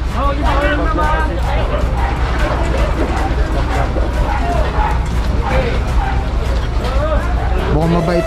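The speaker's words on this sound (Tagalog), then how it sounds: "Mukhang mabait naman yung mga aso." Several dogs barking and yipping in a dirty, crowded outdoor area, with sharp repeated barks over a dense hubbub of people talking and a steady mechanical rumble.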